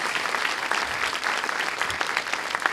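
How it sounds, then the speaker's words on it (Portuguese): A church congregation bursts into steady, dense applause, many hands clapping at close range with no voices rising above it for the whole short stretch. "Você pode dar mais uma salva de palmas a Jesus?"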